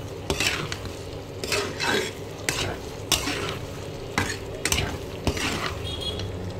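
A spoon scrapes and knocks against a pan while cumin-chili spice paste for beef tripe curry is stir-fried with a little water, giving repeated close clinks and scrapes over a low sizzle, with no speech.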